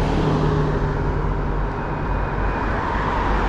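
Steady road traffic noise at a busy crossing in the afternoon, a continuous low rumble of passing cars and larger vehicles, loud and unbroken with no talk.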